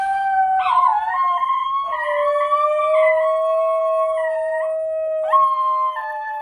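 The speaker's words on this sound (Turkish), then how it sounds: "Basenci neredeyse hiç havlamaz. Onun yerine melodik bir ses çıkarır." A single Basenji dog gives a long, melodic yodel-like howl, sliding up and down in pitch in several connected phrases, close and clear with no talking.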